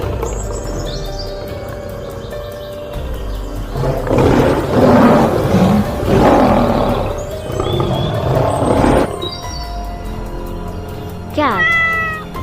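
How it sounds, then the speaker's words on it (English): A lion lets out rough, rumbling roars in the middle of the stretch, loud and close, framed by higher mewing, cat-like calls before and after. "lion"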